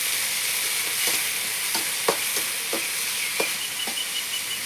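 Pirandai (adamant creeper) sautéing in hot oil in a pan, a continuous bright sizzle broken by a series of sharp spatula scrapes at irregular intervals.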